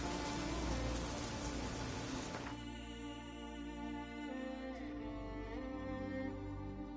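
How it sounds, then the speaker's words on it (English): Heavy rain pours steadily in The Witcher 3, a dense, continuous hiss that fills the scene, shifting partway through into a lighter patter beneath a low background hum. "Raining fucking buckets."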